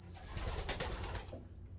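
Veenstra pigeons cooing close by, a short soft throaty coo with a low, muffled murmuring quality, brief and alone.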